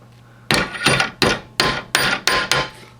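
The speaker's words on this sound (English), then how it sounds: "take a hammer and tap it to a 90-degree angle" A hammer taps a metal rifle rod clamped in a vise, bending it to a right angle, with seven sharp, loud, evenly spaced blows that each ring briefly and decay before the next.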